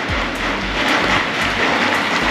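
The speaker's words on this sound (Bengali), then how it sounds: "এখনও বৃষ্টি হচ্ছে" Rain falls outside during a flood, a steady broadband hiss with a low rumbling undertone and a few faint sharp ticks, close and fairly loud, with no talk.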